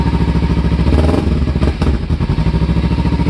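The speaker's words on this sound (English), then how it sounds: "So this is the stock exhaust." Loud, close idle of a cold Kawasaki Ninja motorcycle on its stock exhaust, a steady throbbing burble with a slight rise in revs near the start before settling back.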